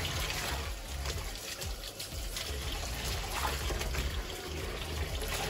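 Water runs and splashes steadily into a basin while rinsing a human hair full lace wig, a continuous close trickling wash with no voices.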